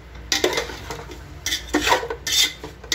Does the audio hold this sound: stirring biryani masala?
yes